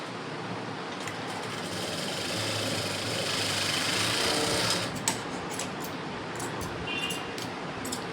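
A sewing machine stitches a double seam on a blouse, a loud continuous motor whir and rapid needle chatter close by that slows and stops near the end, with no talking.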